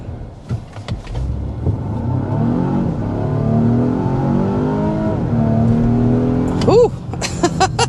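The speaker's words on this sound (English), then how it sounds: "we first want to go ahead and start off by doing a hard acceleration" A 2025 Volvo S90 accelerates hard with a rising engine whine climbing through gears, heard from inside, with brief voices and clicks at the start and end.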